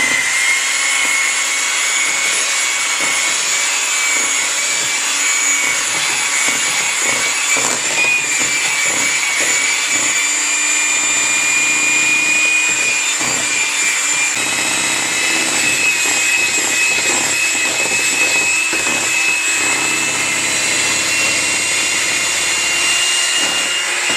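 An electric mixer runs steadily on low, blending cheesecake filling for a chocolate crumb crust cheesecake; a loud, continuous whirring hum with a faint scraping and clatter underneath.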